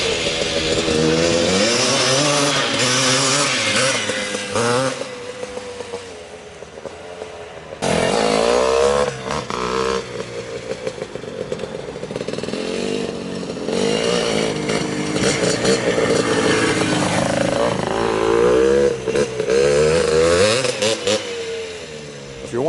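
A 1979 Honda CR250 Elsinore two-stroke motocross bike with Fox shocks and a DG pipe, its engine revving loud and close in rising, falling bursts with a sharp buzzy rasp, briefly dropping to idle before revving hard again.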